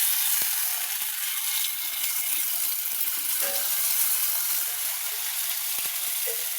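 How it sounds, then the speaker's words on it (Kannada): Paddu batter sizzles steadily in an oiled paddu pan on a stove, a continuous close hiss with a few faint clicks and taps scattered through it. "ಇವಾಗ ಪಡ್ನ ಈ ಸರಿ ಮಾಡಿರೋ ಇದನ್ನು ಒಲೆ ಮೇಲ್ಗಡೆ ಬಿಡ್ತಾ ಇದ್ದೀನಿ."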